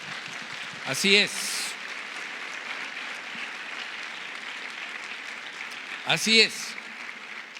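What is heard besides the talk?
church congregation applauding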